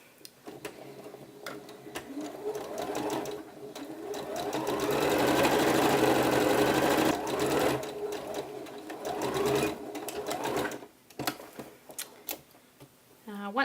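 A sewing machine runs in a long rapid stitching burst with a rising and falling whir as the short edge of a blouse placket is sewn down, followed by short ticking bursts.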